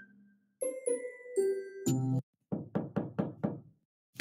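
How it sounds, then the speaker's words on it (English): Doorbell chimes ring out at a front door, a few bright ding-dong tones, followed by a run of five firm knocks in a quick, even rhythm, close and clear, with no voices. "that sounds like somebody's at the door"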